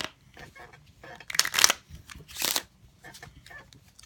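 Playing cards are shuffled together in a quiet room, heard as a few crisp riffling bursts and rustles, close and fairly loud against near silence.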